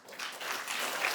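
Theatre audience at a live comedy show breaking into a short burst of applause, a dense, fairly distant wash of clapping swelling quickly and holding for about a second.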